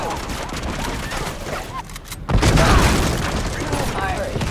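Bursts of gunfire and explosions from the video game Uncharted 2 during a siege fight, dense and loud, swelling sharply past the midpoint, with a voice speaking under the din.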